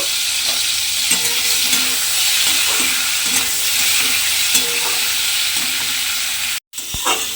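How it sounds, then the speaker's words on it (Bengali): Shrimp fry lightly in hot oil in a pan, a steady close sizzle with rhythmic stirring scrapes and taps, briefly dropping to silence near the end before resuming. "এইবার আমি চিংড়ি মাছটা তেলের মধ্যে দিয়ে দেব।"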